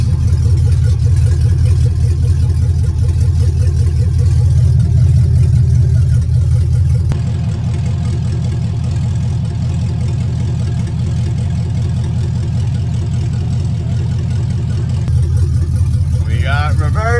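A '65 Chevrolet C10 pickup runs loud and close at a steady idle, the engine note dropping slightly as it is shifted between gears, with a brief squeal near the end.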